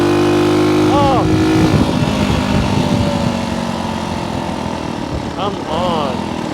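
A motorcycle engine drones loudly while riding, with a rising whine and pitch sweeps as it revs and shifts, heavy wind rumble underneath and brief voice sounds mixed in.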